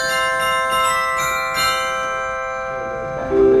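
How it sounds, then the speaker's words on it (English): Vibraphone stop on a theatre organ sounding sustained, ringing metallic bar tones that slowly decay, played alone and fairly loud with a few struck notes layered over the ringing. "That's the vibraphone."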